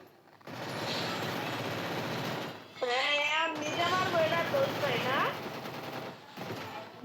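Rapid automatic gunfire bursts from a battle royale shooter game, loud and close, with excited players talking over the shots throughout.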